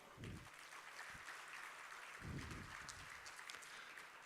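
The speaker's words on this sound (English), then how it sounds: "she deserves a very big applause from all of you" Audience applause at the closing session of a vaccine manufacturers' annual general meeting: a soft, continuous wash of many hands clapping, distant and faint, with a few low bumps.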